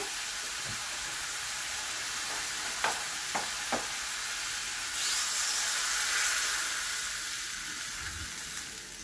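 Pork and vegetables for pinakbet simmer and sizzle in a pot after broth goes in, a steady steamy hiss with a few soft stirring clicks, alone and fairly faint.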